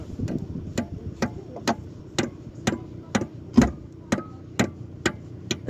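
A hammer strikes repeatedly to drive something in, about a dozen sharp, loud blows at a steady rhythm roughly twice per second, close by.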